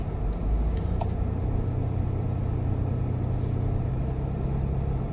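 A car climbs over a road crest, heard from inside another vehicle on a grocery run. A loud, steady low rumble of engine and road noise holds throughout with no talking.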